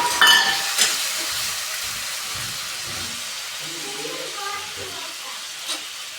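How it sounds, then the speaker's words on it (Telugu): Tomato powder goes into sizzling masala with ginger paste in a pan while a Telugu country chicken curry cooks, giving a steady moderate sizzle with light stirring scrapes and no talk. "టమాటా పొడి వేస్తున్నాను"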